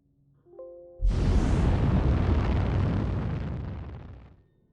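Rocket explosions in the CMANO naval warfare game: a faint tonal beep, then a sudden loud blast that roars for about three seconds before fading out.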